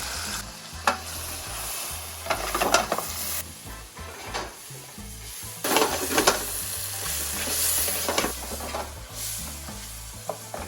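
Fresh tomatoes and garlic sizzling in a pan for pasta: a steady frying hiss close up, with intermittent scraping and stirring clatters of a utensil against the pan.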